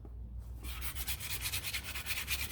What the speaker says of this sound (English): It's very fine sandpaper. Always working the same way.